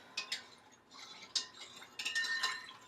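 Fabric dye being stirred in a pot for pearl gray dyeing, giving soft scraping and clinking taps of a utensil against the pot in short uneven bursts, close and fairly quiet.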